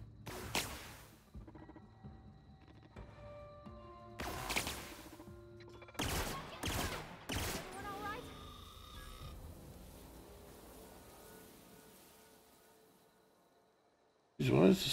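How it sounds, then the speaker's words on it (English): Enemy gunfire in a video game: a few sharp bursts and cracks spaced over several seconds, separated by quieter stretches, with a hard loud hit at the very end. "They're shooting at me."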